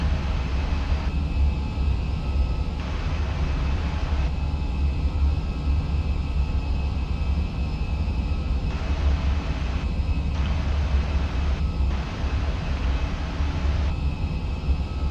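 Simulated Fenix A320 cockpit with IAE engines at climb thrust, a steady low roar with a constant broadband hiss, unbroken and loud throughout, with no talk.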